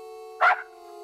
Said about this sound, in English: Did the dog just bark?